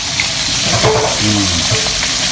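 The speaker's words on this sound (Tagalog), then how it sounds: "Dito naman tayo sa ating mga pinipritong pork chop" Pork chops frying in a pan, a loud, dense, continuous sizzle and crackle heard up close, with no talking.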